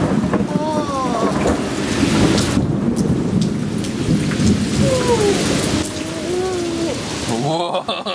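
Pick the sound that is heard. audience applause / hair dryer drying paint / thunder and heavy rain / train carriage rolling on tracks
thunder and heavy rain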